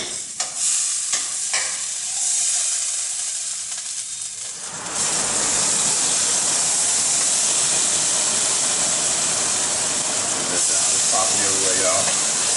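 Butter hits a hot pan for cooking shrimp and bursts into a loud, steady sizzling hiss that fills the second half, after a quieter stretch with a few clinks and a voice at the start.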